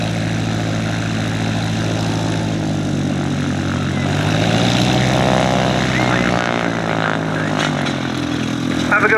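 Beagle Pup light propeller aircraft taxiing at Sywell airfield, a loud, close, steady engine drone with a throbbing propeller buzz that holds throughout and shifts pitch slightly midway.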